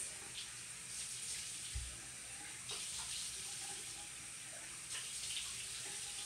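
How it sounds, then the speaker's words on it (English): Tap water runs steadily into a sink as a face is rinsed with cupped hands, a soft continuous splashing with occasional small spatters, quiet and close. "And then we're gonna rinse."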